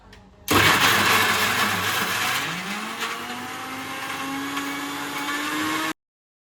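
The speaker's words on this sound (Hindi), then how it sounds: "तो अभी ये देखिए चिकन डाल दिया मैंने, अभी इसको ग्राइंड करूँगा" A kitchen mixer grinder grinding chicken whirs loudly for several seconds after a sudden start, its pitch slowly shifting as it grinds, then cuts off abruptly.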